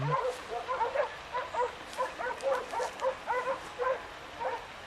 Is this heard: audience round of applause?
no